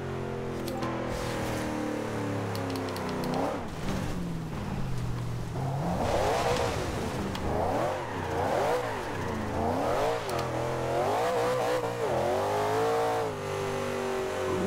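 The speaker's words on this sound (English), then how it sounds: "You get a nice engine noise in this view." A 2015 Chevrolet Camaro Z/28 engine in the racing video game Forza Horizon 2 revs and howls steadily, the pitch climbing and dropping through gear changes, loud and continuous with no talking.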